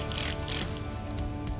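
Two quick hissing sprays from a spray bottle cleaning a tumbler, close by, over a steady low mechanical hum.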